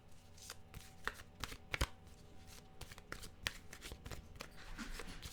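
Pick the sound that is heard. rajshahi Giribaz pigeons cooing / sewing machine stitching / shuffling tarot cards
shuffling tarot cards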